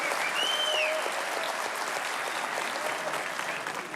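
An audience at a Formula 1 event applauds Mark Webber with steady, dense clapping that holds evenly throughout and fades slightly at the end, with no talking.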